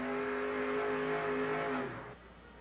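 A monster truck engine at a drag race holds a loud, steady high-pitched roar, then drops off and fades as the throttle is released.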